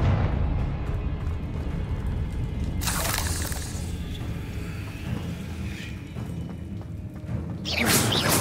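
Confringo fire spells burst in Hogwarts Legacy: two sharp, bright explosive blasts, one early and one at the end, over a low rumbling game ambience.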